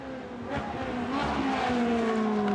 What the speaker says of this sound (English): Heavy braking down through the gearbox